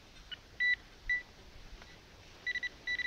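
A metal detector beeping over a target in a field, short electronic tones in quick pairs and bursts, fairly faint against background hiss.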